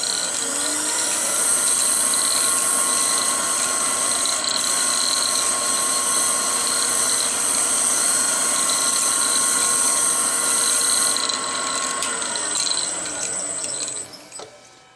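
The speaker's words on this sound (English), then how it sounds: "So what I'm going to do is use a toothbrush" A toothbrush scrubs wax out of the grooves of a wooden goblet with two captive rings as it spins on a wood lathe, giving a loud, steady whine and hiss that runs unbroken for about twelve seconds before it tapers off.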